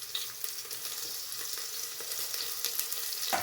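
Chopped onion and curry leaves frying in oil in a pan make a steady, close hiss and crackle, with a faint scrape near the end.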